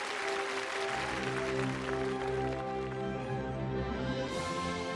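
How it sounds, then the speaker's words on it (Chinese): A studio audience at a children's television show claps steadily to welcome an astronaut guest, the applause running continuously over music playing underneath. "掌声欢迎我们的特邀嘉宾出场。"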